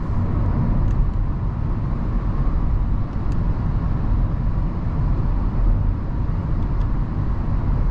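A 2021 Volkswagen Golf 8 with a 1.0 eTSI 110 HP engine cruises steadily at 100 km/h, heard from inside the cabin as a loud, constant road and engine roar with tire rumble and no letup.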